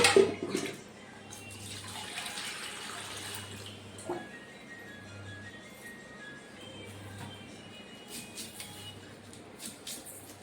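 Water is poured over onions to rinse them while cooking chicken gravy at home: a steady splashing hiss swells for a couple of seconds, then settles into a quieter trickle with small drips, close by.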